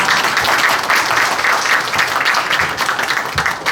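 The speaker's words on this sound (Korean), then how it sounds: "큰 박수 보내주시기 바랍니다" A large audience at a book launch event claps loudly and steadily throughout, a dense, sustained round of applause.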